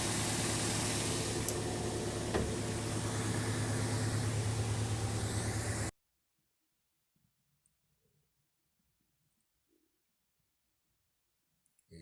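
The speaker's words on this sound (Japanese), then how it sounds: "アイドリングも安定しております。" A Toyota MR-S midship sports car engine idles steadily as a low hum with faint clicks, then cuts abruptly to near silence halfway through.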